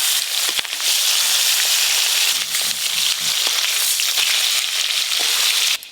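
Koi fish frying in hot oil, a steady loud hiss and sizzle throughout with scattered crackles and pops, close up and uninterrupted until a brief drop at the very end.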